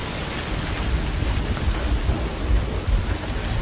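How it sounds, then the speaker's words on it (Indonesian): Heavy rain pouring steadily on surfaces outdoors, a dense continuous roar with low rumbling undertones like distant thunder, no voices. "karena hujan yang semakin deras, aku sampai ke kantor dengan keadaan basah kuyup"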